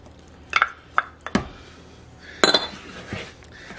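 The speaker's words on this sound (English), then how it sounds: "I'm mixing it, but mix it gently." A utensil mixing waffle batter of buttermilk and melted vegan butter in a bowl, sounding as a few distinct clinks and taps against the dish with soft scraping between them, close and fairly clear.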